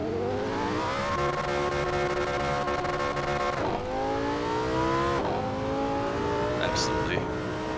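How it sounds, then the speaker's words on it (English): Lamborghini Sesto Elemento V10 engine in the Assetto Corsa racing game, a loud continuous howl that climbs through the revs, drops sharply at each gear shift, then climbs again, with no talk over it. "Lamborghini V10s, not quite like a V12 sound, but much more reliable."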